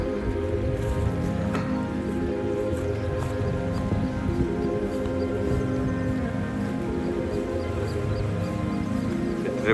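A farm pump motor hums steadily while its water gushes and splashes in a continuous, close, even wash of sound, with no talking.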